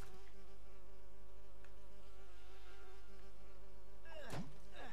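Insects buzz around a beehive in the LEGO Lord of the Rings video game, a steady, close, droning hum that runs the whole time, with a brief swooping whoosh near the end and no speech.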